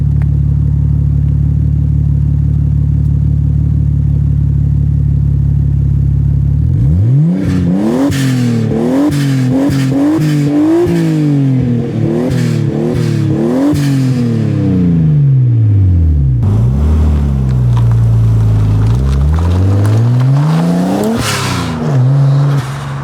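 A Nissan R33 Skyline fitted with a new exhaust idles steadily, then is revved repeatedly in sharp rising and falling bursts, loud and close, with a longer sustained rev near the end.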